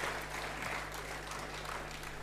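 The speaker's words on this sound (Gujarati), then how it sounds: "આપણે જોરદાર તાળીઓથી એમનું સ્વાગત કરીએ" An audience at a cultural event applauds to welcome Jay Vasavada, a steady wash of clapping heard from a distance over a low electrical hum, fairly faint and sustained.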